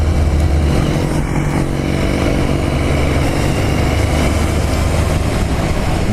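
A motorcycle on a road-safety riding course accelerates out of a corner, its engine a loud, steady close-up drone that holds level for several seconds with no talking.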